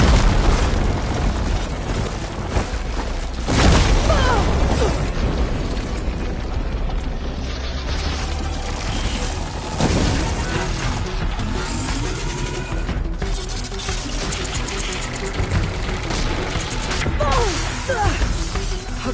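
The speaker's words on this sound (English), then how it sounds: "We'll fire a few shots from that ballista." Ballista shots firing and striking targets in the video game Horizon, a dense, loud barrage of booms and crashing impacts repeating throughout over a constant backdrop of game noise.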